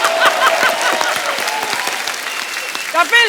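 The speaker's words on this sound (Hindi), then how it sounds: "एक बार हमारी ऑडियंस के लिए भी ताली हो जाए।" A studio audience at a comedy talk show applauds, with dense, sustained clapping close by that fills the whole stretch while whoops and voices rise briefly near the end.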